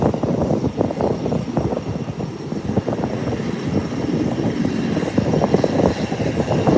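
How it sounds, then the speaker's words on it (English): A Bahamasair ATR 72 turboprop arriving from Nassau taxis after landing at Howard Hamilton International Airport, a steady, fairly loud propeller and engine drone with a fluttering rumble, heard from nearby with no talking. "That's the ATR 72, Bahamas Air. Arriving from Nassau, Bahamas."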